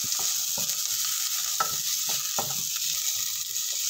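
Onions sauté in a hot pan for Ginataang Mongo, a Filipino mung bean dish, with a steady close sizzle and occasional scraping stirs.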